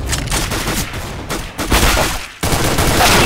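CS:GO Arms Race gunfire: loud close bursts of rapid shots crackle and pop in quick succession, with a brief lull before another burst.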